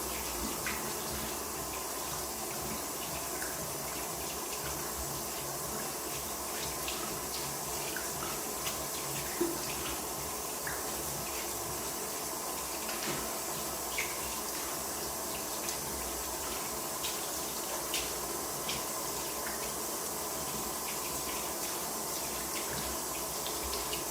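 A bathroom tap runs steadily for a long stretch while someone rinses their face, a constant close hiss of water with small splashes breaking through.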